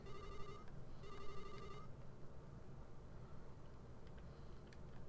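A telephone rings in the video game Mother 3: two short bursts of electronic trilling ring over a steady hiss, followed by faint beeping blips.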